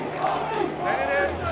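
A rugby crowd at a Cardiff versus Pontypridd match shouts and roars in a continuous mass of voices, loud and close, without pause through the short moment.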